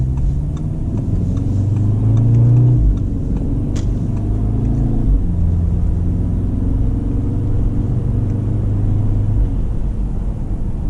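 An Audi TTS sports car engine drones with a deep, steady rumble from inside the cabin, with the revs rising and falling as paddle shifts change the pitch, loud and continuous with no talking.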